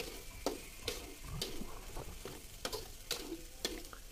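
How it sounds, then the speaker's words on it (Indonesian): A utensil scrapes and taps rhythmically around a pan while food for Sundanese nasi liwet fries with a soft sizzle, several sharp clacks at irregular intervals. "Kalian aduk-aduk seperti ini"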